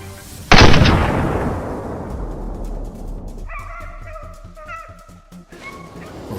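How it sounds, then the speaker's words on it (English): A single loud gunshot cracks out during a wild boar hunt and rings off into a decaying tail, followed by dogs barking and yipping nearby. "One clean shot sealed the deal."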